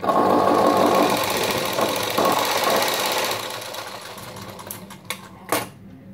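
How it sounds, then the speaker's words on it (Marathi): A sewing machine stitches a blouse sleeve with a potli-button design, whirring loudly and continuously at first, then fading into lighter clicks and brief taps. "राहिलेली या साईडने शिलाई मारून घ्यायची आपल्याला"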